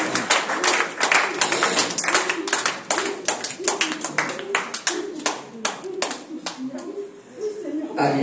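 A church congregation at a Sunday service claps in a fast, steady rhythm, the crowded hand-claps close and loud for several seconds before easing off, mixed with voices and cheering.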